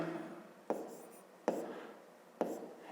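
Handwriting during a fifth-grade math lesson, with a pen scratching softly across paper in a few quiet strokes and three sharper taps spaced almost evenly apart, close and faint.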